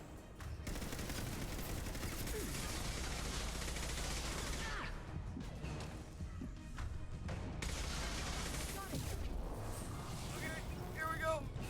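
Heavy gunfire in the video game Mass Effect Legendary Edition: loud, sustained bursts of rapid automatic shots and crashing impacts, nearly continuous with brief lulls, and a voice talking over the battle.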